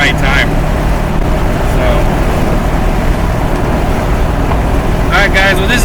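A 1985 C4 Corvette drives along, giving a loud continuous engine and road rumble from inside the car, with someone talking briefly at the start and near the end.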